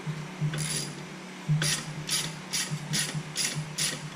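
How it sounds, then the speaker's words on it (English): A 13 mm ratchet loosening the bolts on a Jeep seat's legs: rapid, close clicking pawl bursts repeating about every half second over a low steady hum, with no one talking. "we're gonna take this 13 millimeter and we're gonna remove the legs off of the bottom"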